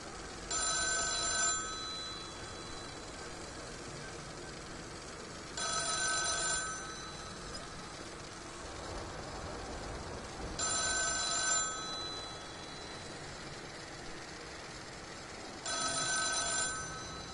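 Telephone ringing in a video game, four evenly spaced bursts of an electronic bell ring separated by several seconds of quiet room tone.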